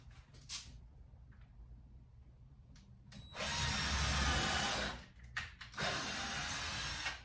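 A power drill bores holes in a garage wall for anchors, whirring close and steady in two bursts of a second or two each, separated by quiet pauses with faint handling clicks.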